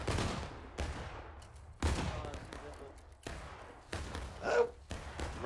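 Several booming musket volleys from War of Rights, each a heavy crack with a long fading rumble, spaced about a second apart amid scattered distant shots, with voices talking over them.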